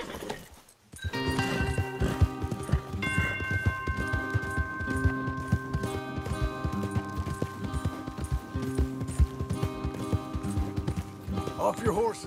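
Horses gallop in Red Dead Redemption 2, with steady close hoofbeats pounding under game music and a whinny, while characters talk over them.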